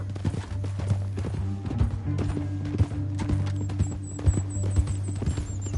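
Horse hooves clip-clop in Red Dead Redemption 2, a steady, fairly close trot of repeated hoof strikes over a low sustained hum and background score.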